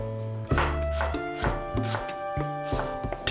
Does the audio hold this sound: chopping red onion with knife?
yes